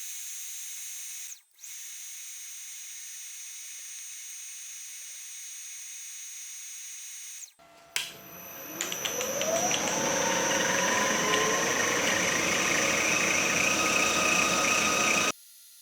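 A milling machine starts up and cuts drive pockets into a steel shell mill arbor, a rising motor whine settling into a loud steady grinding hum after a quieter stretch of background tone and brief pauses.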